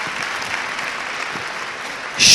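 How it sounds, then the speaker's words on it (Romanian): An audience at a children's classical music event applauds a four-year-old girl named Sofie, with steady, even clapping throughout and a brief louder swell right at the end. "să o aplaudăm pe Sofie."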